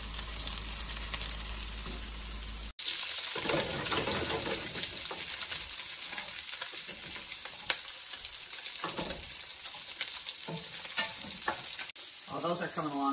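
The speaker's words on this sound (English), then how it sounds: "They're still sizzling." Polish-style meatballs frying in a pan, a continuous bright sizzle with scraping stirs and a few clatters, moderately loud and close, with brief breaks in the sound.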